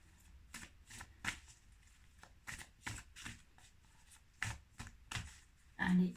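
Oracle cards shuffled by hand, a series of short, crisp riffling bursts at an irregular pace, fairly close and quiet, ending in a slightly louder flurry.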